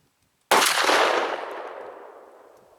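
A single loud, close shotgun blast from a Remington 11-87 firing Winchester Xpert 3-inch steel #2 waterfowl shells cracks out of silence, then rings off in a long, fading echo.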